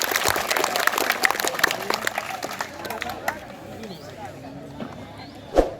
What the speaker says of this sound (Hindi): एक बार ताली बजाइए इस क्वेश्चन को।